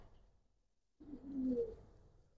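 Giribaz racer pigeons coo softly after a quiet opening second, a brief low murmuring call rising then fading, with no one talking.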